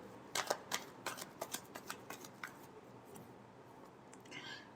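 A tarot deck being shuffled up close: a quick run of crisp, rhythmic card riffles and flicks that slows and fades, followed by a softer rustle, no speech.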